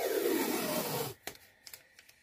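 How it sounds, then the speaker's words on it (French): A roll of adhesive tape is pulled out in a long, loud, rasping strip, then a few sharp crackles and taps follow as it is handled up close. "On va prendre le rouleau de scotch"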